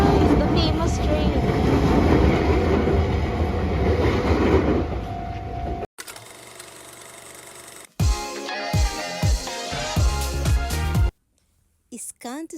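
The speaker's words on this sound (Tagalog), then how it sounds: "ang train ng Kamakura sa anime na Slumdunk. Yun na guys, the famous train." A Kamakura train passes the famous crossing with a loud rolling rumble and clatter, followed by choppy bursts of crowd and street noise with people talking.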